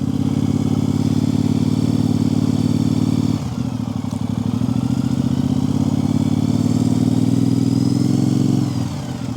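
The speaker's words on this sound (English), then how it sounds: "Let go of the clutch a little bit. Bring it back in. Alright. Bring it back in. A little bit of throttle." A Triumph Speedmaster motorcycle engine idles loud and close, its steady throbbing rumble rising briefly with small throttle blips and clutch changes during slow U-turn practice.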